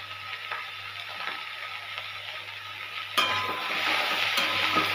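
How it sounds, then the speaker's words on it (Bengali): Potato pieces and pumpkin-green stems frying in hot oil with a little turmeric, a steady sizzle that grows louder as ingredients drop in, with clinking and scraping of a utensil stirring in the pan. "আলু আর ডাঁটাটা ভেজে নেব।"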